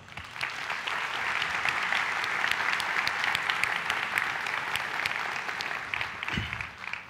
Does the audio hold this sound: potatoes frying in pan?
no